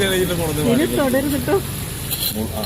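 Spice powder sizzles and spatters in hot oil in a home kitchen, a steady crackling hiss running underneath a person talking nearby.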